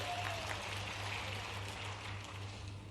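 Sustained crowd applause from a large audience at an outdoor political rally in Seoni, steady and dense clapping filling the space, with a low hum underneath.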